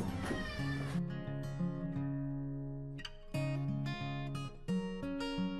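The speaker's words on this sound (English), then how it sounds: "I'm going to let the cat back out because apparently she wants to go back out now" A house cat meowing to be let back outside, drawn-out tonal cries repeating several times, close and clear, with no talking.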